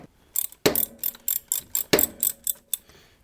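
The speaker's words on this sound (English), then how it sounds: "Have your 5/8 ratchet set to lefty-loosey," A 5/8 ratchet clicks in quick repeated bursts while loosening the oil drain plug on a Milwaukee-Eight Softail motorcycle, with two sharper knocks as the plug breaks free, close and alone with no talking.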